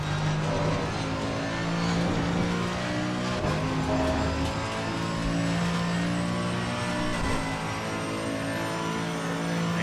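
A BMW race car engine drones and climbs through the gears at Monza in Assetto Corsa Competizione, with steady loud revving, shift breaks and a sustained whine from close onboard. Nobody talks.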